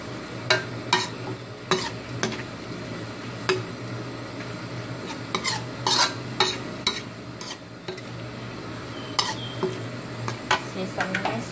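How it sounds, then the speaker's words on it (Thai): Minced pork with holy basil stir-fried in a pan after stock is added, sizzling steadily while a spatula strikes and scrapes the pan in frequent sharp clanks. "ผัดจนกว่าน้ำจะแห้งจ้ะ"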